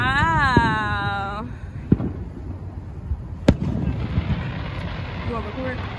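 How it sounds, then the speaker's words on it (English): A rising whistling tone fades out, followed by scattered sharp bangs and cracks from fireworks, some distant, over wind and background noise. "fireworks."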